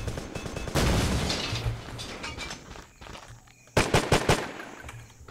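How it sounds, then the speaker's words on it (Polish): Bursts of automatic gunfire in the game Terrorist Takedown: Wojna w Kolumbii: a loud rattling volley near the start, scattered shots, then another sharp burst toward the end, with footsteps between. "Czy ktoś do mnie strzela?"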